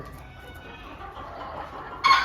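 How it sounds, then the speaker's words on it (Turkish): Quiet ornamental-chicken coop ambience with soft clucking, then a rooster's crow bursts in loudly near the end. "Horoz iş başında."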